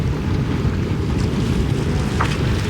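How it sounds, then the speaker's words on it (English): A sailing boat motors under engine along Sardinia's east coast on a calm, windless sea, giving a steady, loud low drone mixed with rushing water and wind buffeting the microphone. "we're just making our way down the east coast of Sardinia under engine today because there's no wind"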